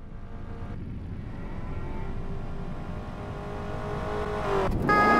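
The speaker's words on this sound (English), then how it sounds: "I can hear a big engine coming." A big car engine in the driving game Crash Time Undercover approaches, a low rumbling drone that swells steadily louder, ending with a sharp rising whine as the vehicle draws near.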